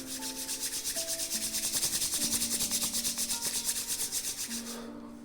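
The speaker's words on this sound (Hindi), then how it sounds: "दोनों हाथों को जोड़ें, जोर से रब करें।" Two palms rubbed together hard and fast, a close, rhythmic swishing friction in quick even strokes for about five seconds, over soft sustained background music.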